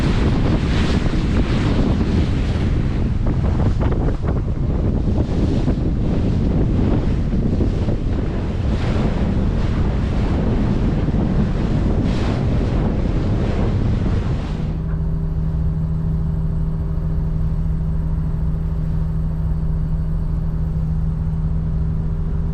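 Wind gusts and buffets across open water aboard a Nordhavn 50 motor yacht in a narrow canal channel, loud and constant, with the rush dropping to a steadier engine hum near the end.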